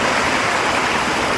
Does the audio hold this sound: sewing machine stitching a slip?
no